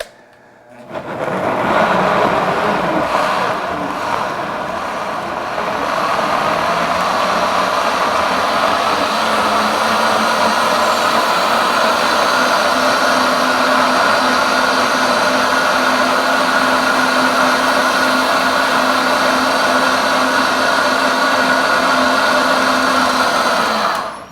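A blender whirs continuously through a protein smoothie, loud and close, its motor pitch settling into a steady drone after the first few seconds and stopping abruptly at the end.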